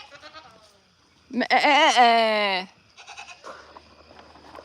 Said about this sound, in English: Oh, the goats. I think the goats are over here